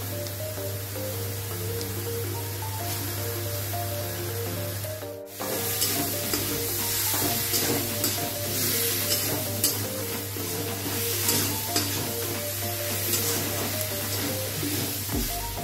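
Small chuno fish coated in salt, turmeric and chilli powder sizzle loudly in a pan of spice masala while a spatula stirs and scrapes steadily, one brief pause midway, close and continuous.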